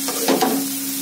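Egg fried rice with coriander leaves being stirred and fried in a pan in a restaurant-style preparation, a short close scrape of the spoon over a steady low sizzle, with no talking.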